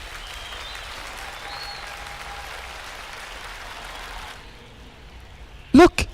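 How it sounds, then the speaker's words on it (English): A Zoom livestream carries a round of applause as a soft, even patter of many hands, steady for several seconds before fading out, ending in a couple of sharp louder knocks. "Woohoo, they're clapping for you!"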